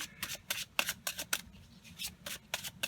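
Tarot cards are shuffled in quick, crisp riffling bursts, about a dozen short snaps in an uneven rhythm, close up with no voices.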